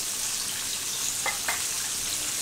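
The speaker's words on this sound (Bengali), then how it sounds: "আর এখন একটু মাছটাকে আর একটু উল্টাই দিয়ে দেখি।" A whole fish fries in a pan for Indonesian-style spicy fried fish, with a constant soft hiss of oil and two quick scraping knocks as it is turned.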